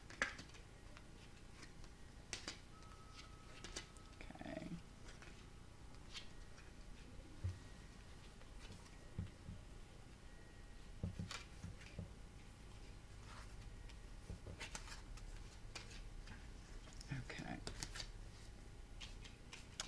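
Tarot cards are laid out one by one on a table for a reading, giving soft, close taps, slides and shuffling flicks spread irregularly across the stretch at very low volume.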